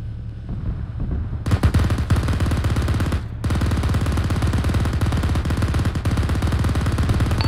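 Heavy automatic gunfire in an Arma 3 mechanized battle: a dense, continuous machine-gun rattle that starts faintly, then swells loud and sustained, with a brief dropout before resuming and little else audible.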